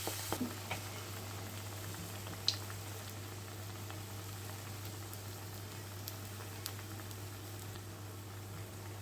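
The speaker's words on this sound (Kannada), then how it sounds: "ಹೊಂಬಣ್ಣ ಬರುವವರೆಗೆ ಅದನ್ನು ಕರಿಬೇಕು" Batter-coated leaves deep frying in hot oil, a soft, steady bubbling patter with a few small pops, faint and close, alongside a constant low electrical hum.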